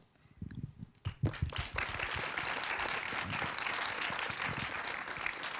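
Festival audience applause breaks out after a few scattered early claps, swelling within a second into a steady, full round of clapping from a sizeable crowd that carries on evenly to the end.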